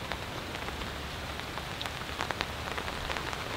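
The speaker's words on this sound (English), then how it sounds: "the rain is light" Light rain falls steadily before a thunderstorm, a continuous even patter with scattered distinct drops, close and alone with no voices.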